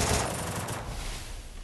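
Rapid gunfire in the mobile battle royale game Free Fire, a dense continuous burst of automatic shots filling the short clip at steady loudness with no voices.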